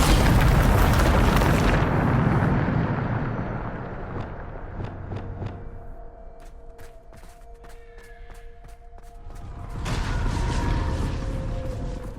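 Spell blasts booming in the video game Hogwarts Legacy, with heavy explosive bursts at the start, a string of sharp cracks and a humming tone through the middle, then another loud roaring burst near the end.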